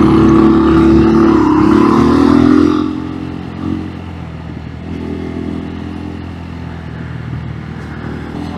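A motorcycle engine on a road in Rizal, Philippines, drones loud and close, easing off its revs partway through and then settling into a lower, steady hum with some rattling wind noise.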